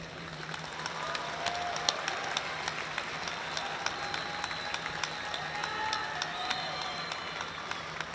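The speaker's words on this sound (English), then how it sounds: "And graduates, let's give them a round of applause." A large crowd at a high-school graduation ceremony in Fargo claps in sustained, even applause from start to finish, heard at a distance with a few louder individual claps standing out.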